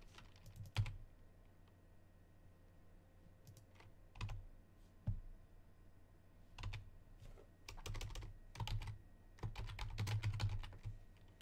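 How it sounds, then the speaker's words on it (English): Someone typing on a computer keyboard while playing a Modern-format card game online, with irregular clusters of clicks and bursts of rapid keystrokes over a quiet background. "I am currently typing in my opponent's round timer box"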